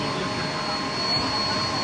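Inside a very fast elevator in Korea's tallest building, a steady, loud rushing of air fills the cabin with an even roar that holds for about two seconds.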